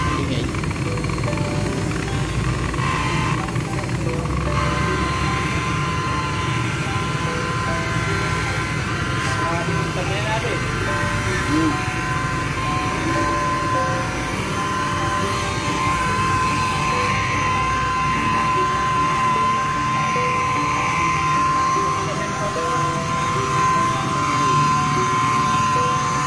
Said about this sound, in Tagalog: pakinggan natin kung ano yung tunog ng buffing machine na parang malakas